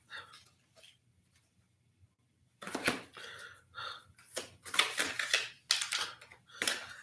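Angel oracle cards being shuffled by hand, a soft papery riffling and flicking in several bursts that start after a quiet pause, fairly close and with no talking.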